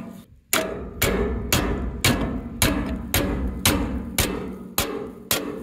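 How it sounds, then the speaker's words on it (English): A hammer strikes a jammed Versa Tote grain cart about ten times in a steady rhythm, each loud metallic knock ringing out briefly before the next. "Got my hammer."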